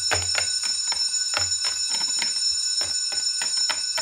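A school bell rings continuously and steadily, a bright electric metallic ringing that fills the whole span at moderate level, with faint footsteps or knocks beneath it.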